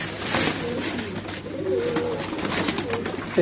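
Soft coos from China khaki pigeons murmur over a steady low background hum, with fluttering and scuffling noises throughout as the flock comes down to feed.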